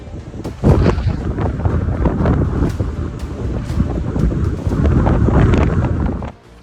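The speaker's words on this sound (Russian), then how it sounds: "Сильнейшая метель, сопровождаемая порывами ветра до 29 метров в секунду" Strong blizzard wind gusting up to 29 metres per second across central and northern Kazakhstan during a snowstorm, a loud continuous roar buffeting the microphone with rising and falling surges.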